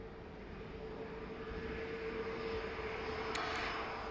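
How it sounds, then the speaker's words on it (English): EasyJet Airbus A320 arriving from Gibraltar, a faint, steady jet engine whine and rumble heard at a distance, with no voices. "Next in, EasyJet from Gibraltar, 320"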